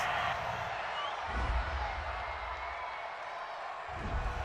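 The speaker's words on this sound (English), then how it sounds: "Well, this crowd does not like that call." Football stadium crowd at a Houston Texans versus Washington Redskins NFL game reacting to a roughing-the-passer penalty, a broad, distant roar of booing and murmuring that swells in low rumbling waves.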